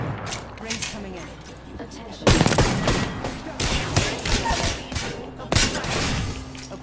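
Bursts of gunfire from The Division video game crackle in rapid volleys, with a few sharper loud blasts standing out among the sustained shooting, mixed with voices talking.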